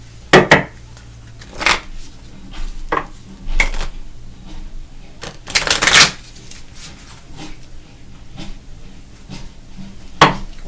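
A tarot deck is shuffled and handled with bursts of riffling card flutter and sharp slaps of cards against a surface, scattered irregularly between quiet pauses, close and fairly loud.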